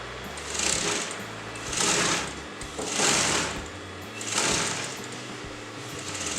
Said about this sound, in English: I'm going to put a basting stitch to the neck side